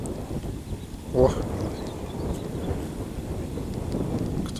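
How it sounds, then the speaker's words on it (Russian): Strong wind buffets the microphone on a fishing boat on a lake, giving a steady low rumble with one brief louder gust near the start. "Ветер сильный поднялся."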